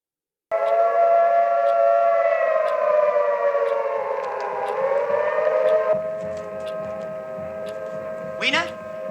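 Air raid sirens wailing in a film of The Time Machine, a loud sustained rising and falling tone with layered harmonics that begins abruptly and drones on, ending with a sharp swooping sweep near the end.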